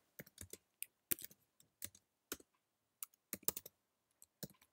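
Typing on a computer keyboard while entering R commands in RStudio on a Mac: irregular bursts of quiet, close key clicks with short pauses between them, no talking.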